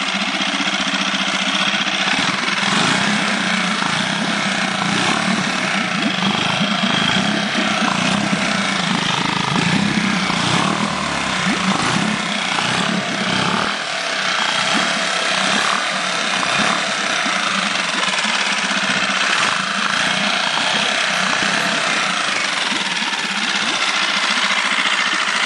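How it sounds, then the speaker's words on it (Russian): An outboard motor on a boat, freshly serviced with its carburetor clamp and engine cover refitted, runs steadily on the water with a continuous loud drone and rattle throughout, no talk over it. "Проверим, как работает двигатель на воде."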